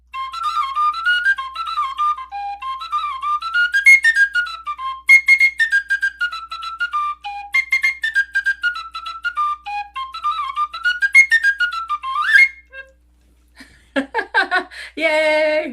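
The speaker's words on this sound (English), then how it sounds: "Even my little Irish tin whistle that I have here." Irish tin whistle playing a lively jig, bright ornamented melodic runs close and loud for about twelve seconds, then breaking off into cheering and applause from an audience.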